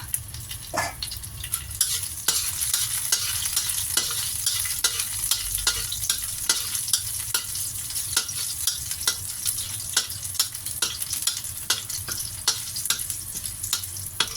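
Blanched long beans are stir-fried in a little oil in a pan with a steady sizzle. A spatula scrapes and clicks against the pan in a quick, irregular rhythm, close and without talk.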